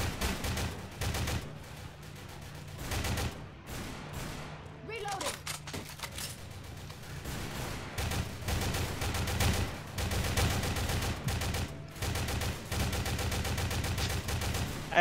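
Loud, close gunfire in Left 4 Dead 2 on a Tour of Terror map comes as repeated bursts and single shots in uneven rhythm, with a couple of short pauses and steady game noise underneath.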